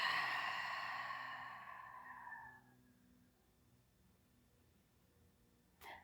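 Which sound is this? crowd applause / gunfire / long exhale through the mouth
long exhale through the mouth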